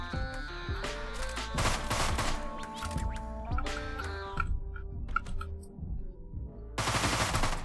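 Gunfire rips through the video game Deadbolt over loud, tonal game music. Bursts of rapid shots come in several clusters, ending in one dense final volley, with no one talking.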